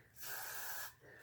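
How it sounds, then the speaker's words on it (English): One close hiss of hairspray sprays for most of a second, steady and breathy, then cuts off. "You can spray as much as you need to."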